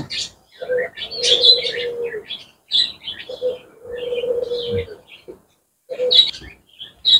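Pet doves, a male and female pair, call with soft low cooing while sharper chirps rise above, nearby and intermittent in short bursts with gaps between them.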